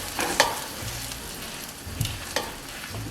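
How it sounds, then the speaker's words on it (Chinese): Crab meat seasoned with pepper and salt is stir-fried slowly in a wok, a soft, steady frying sizzle broken by a few short scraping strokes of the spatula, with no voices. "慢慢的炒"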